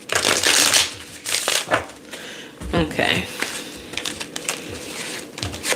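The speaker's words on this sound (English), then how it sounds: "while I'm shuffling these cards and putting them back" Playing cards being shuffled during a tarot-style reading, a run of crisp riffling and shuffling bursts close by, with a brief spoken word partway through.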